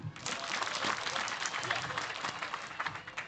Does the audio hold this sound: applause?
yes